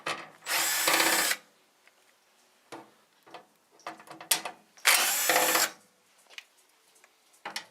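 A power drill backs out screws from a metal plate holding the fan and heater inside an electric fireplace heater, two short loud bursts of whirring with quiet clicks and handling noises between them.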